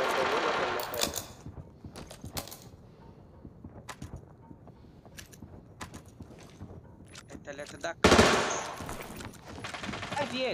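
Video-game gunfire crackling in rapid bursts, with sharp automatic volleys and a louder cluster near the end, under excited talk from players.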